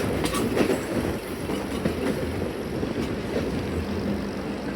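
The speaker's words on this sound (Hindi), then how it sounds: "और ये देखें ट्रेन को मुड़ता हुआ।" A train rumbles along the tracks while curving through the flat plains of Sindh near Kotri, a steady close broadband roar with faint clatter and wind throughout, with no voices.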